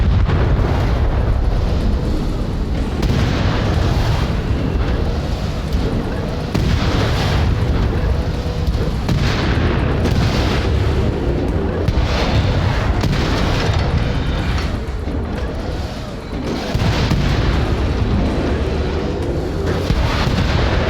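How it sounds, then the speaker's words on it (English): Tank cannon fire in the real-time strategy game Crossfire Legion, a continuous loud barrage of deep booms and explosions rolling together without pause, with no talking. "Holy crap, this tank attacks slowly"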